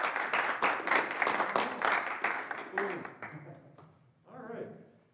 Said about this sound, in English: Let's have a round of applause for Russ Schmidt and his Rhythm Section Masterclass.